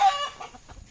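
A hen gives a loud, startled squawk and then a quick run of clucks, close by and fading, as several people crowd into its coop to catch it.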